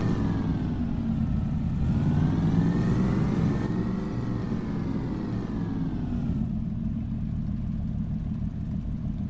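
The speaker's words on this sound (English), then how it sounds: "even in the cab, she's as loud as most of the trucks I normally drive." Loud farm vehicle engine heard from inside the cab, a heavy mid-pitched drone with rising and falling revs and a steady low rumble underneath, continuous and close, with no talking.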